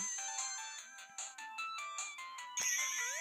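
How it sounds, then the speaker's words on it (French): A bright chiming notification jingle plays a quick run of tones, then a louder final chord rings out, alone and clear. "une notification YouTube"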